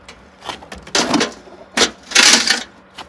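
A cash register makes loud, close mechanical clattering in a few separate bursts, with rattling noise between short pauses.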